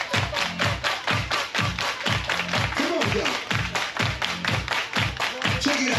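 Audience clapping hands in a cruise ship nightclub during a dance party, a steady rhythmic beat of claps over loud thumping music, with a host calling out to the crowd.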